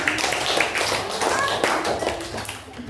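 Classroom clapping in applause for students after a presentation, a steady dense patter of many hands close by, with voices mixed in.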